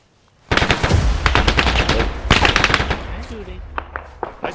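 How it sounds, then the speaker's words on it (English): Loud, close bursts of rapid automatic gunfire and scattered single shots in a military video game assault on Zelenogorsk, dense for several seconds and then thinning out to isolated cracks. "Shooting."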